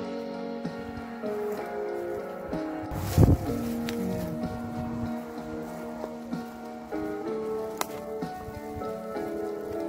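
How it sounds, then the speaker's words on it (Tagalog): Steady rain patters on a surface throughout, with wind, a hum of background tones and a brief louder knock partway through. "Mahangin na, nandiyan na yung ulan."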